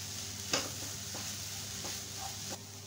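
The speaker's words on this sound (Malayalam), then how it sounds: "ഇതിനെ നന്നായിട്ടൊന്ന് മിക്സ് ചെയ്തെടുക്കണം." Turmeric and garam masala being mixed in a frying pan for vegetable cutlets: a low steady sizzle with a few distinct spoon scrapes and taps against the pan, close and alone.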